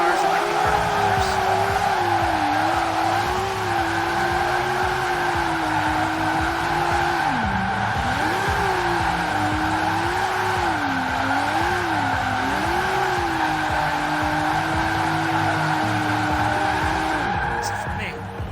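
Sustained tire squeal and a revving engine as a car drifts in the Forza Horizon 4 racing game, the pitch wavering steadily for nearly twenty seconds.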